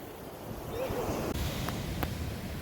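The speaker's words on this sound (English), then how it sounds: "it's definitely fun watching the waves crash against the beach" Ocean surf rolling and crashing onto Panther Beach in Santa Cruz, California, a steady broad wash of waves with wind noise, no talk.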